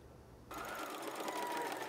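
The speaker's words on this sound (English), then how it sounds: "Using the sewing machine to make fabric masks" A sewing machine stitches fabric masks, its rapid motor whir starting abruptly and running steadily and close for under two seconds.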